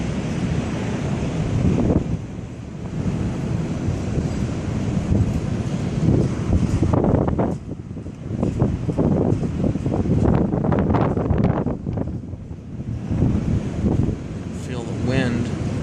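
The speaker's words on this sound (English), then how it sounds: "Feel the wind starting to pick up as that boundary gets closer." Strong gusting wind ahead of a severe thunderstorm in Dubuque, Iowa roars and buffets the microphone, rising and falling in loud rushing waves as the storm boundary approaches, with voices briefly heard under it.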